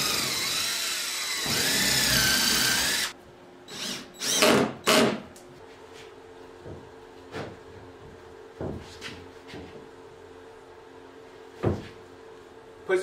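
A power drill drives a single fastener into a wooden sailboat panel in one steady, whining burst of about three seconds. Quieter knocks and shuffling sounds follow.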